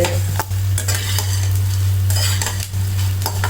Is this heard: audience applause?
no